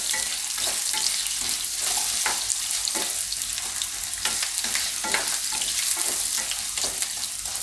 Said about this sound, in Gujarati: બટેટાને આપણે આમાં તેલમાં પાકવા દેહું, વચ્ચે વચ્ચે હલાવતો રહેવું.